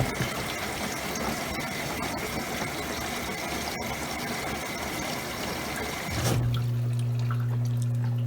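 A Maytag washing machine on a normal cycle pauses to drain. Water rushes and gushes steadily for about six seconds, then cuts off, leaving a close, steady low hum from the drain pump.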